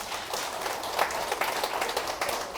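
Applause at a residents' meeting, scattered clapping from an audience at moderate distance, steady and fairly faint throughout the short moment.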